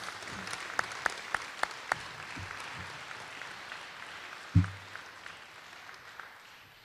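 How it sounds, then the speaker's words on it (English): A middle school awards ceremony audience gives a round of applause for the Students of the Month, a sparse, quiet patter of claps with a single louder thump partway through. "How about a round of applause for our Students of the Month?"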